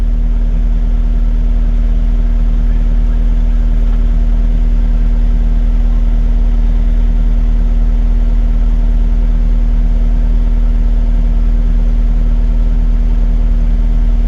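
A dump truck stuck in a hole on 23-inch tires, engine running steadily with a deep low drone and constant mid-range hum as the wheels spin for traction, loud and continuous throughout with no talking.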